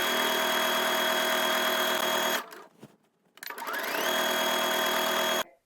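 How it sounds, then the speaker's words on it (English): Sewing machine stitching a hem around the bottom of a skirt, a fast, steady motor whir that stops briefly midway, then spins back up and runs continuously before cutting off, close and loud, with no talking. "Then I'll sew my hem in place, stitching right along the finishing stitches all the way around the bottom of the skirt."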